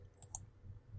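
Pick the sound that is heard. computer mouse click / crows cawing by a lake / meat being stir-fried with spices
computer mouse click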